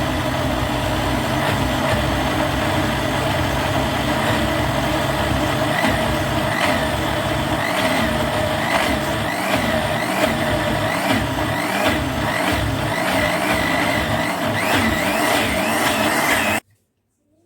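A blender runs steadily, whirring loudly and continuously while tahini is beaten and oil is trickled in, then cuts off abruptly near the end.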